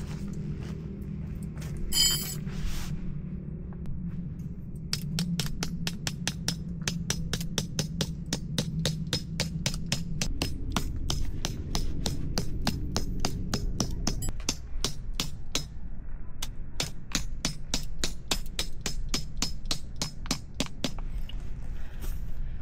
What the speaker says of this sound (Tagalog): meron tayong ganito martilyo para hindi tayo nahihirapan magpukpok